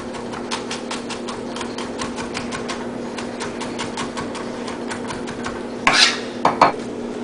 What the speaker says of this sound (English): Just start with a chopping motion.